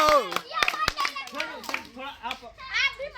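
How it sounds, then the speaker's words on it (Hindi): Several sharp hand claps ring out near the start among excited children's voices and lively chatter in a village setting. "ताली बजाओ।"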